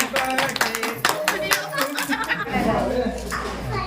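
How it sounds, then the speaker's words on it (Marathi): A group of people clap together at a home baby shower, with a steady burst of applause mixed with chatter and light laughter. "हे टाळ्या वाजवा"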